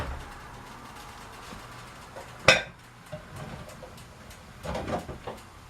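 Plates clinking against one another as one is lifted out in a home kitchen while a big stack breakfast is being made, a single sharp clatter with fainter knocks later.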